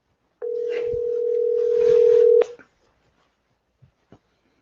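A telephone dial tone holds steady and loud for about two seconds while a call is placed, then cuts off, followed by a few faint clicks and taps in near silence.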